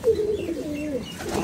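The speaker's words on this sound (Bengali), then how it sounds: "এটা একটা নর কবুতর" A male pigeon coos nearby: one low, rolling, gently wavering coo, up close and fairly loud, with faint rustling around it.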